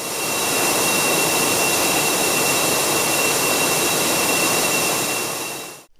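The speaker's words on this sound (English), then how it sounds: "The roller mill has two large steel rollers that turn together and crush the wheat." Large industrial roller mill with two big steel rollers crushing wheat into flour, a loud, steady broadband roar with a faint high whine running unbroken for about six seconds before cutting off.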